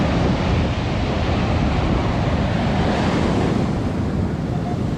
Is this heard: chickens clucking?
no